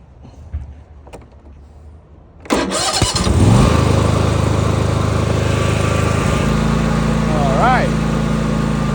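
After a couple of seconds of faint handling noise, a lawn mower engine cranks and catches, then runs loud and close at a steady idle. A brief voice or squeal comes in near the end.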